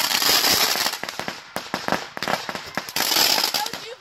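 A string of 8,000 Black Cat firecrackers going off at close range, rapid and loud with an irregular crackling barrage of bangs.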